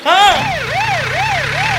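A police siren wails loudly and close, its pitch sweeping up and down in a steady repeating cycle, with a low engine hum beneath.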